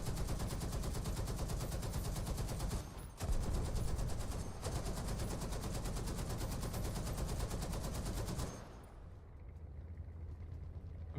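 Rapid automatic gunfire in War Thunder rattles on without pause for about eight seconds, loud and dense, with one brief gap, then cuts to a quieter engine-like rumble.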